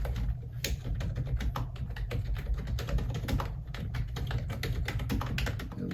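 Dense, continuous typing on a Josef keyboard, a soft-damped board that still clacks, with rapid overlapping keystrokes throughout, close and steady, no voices.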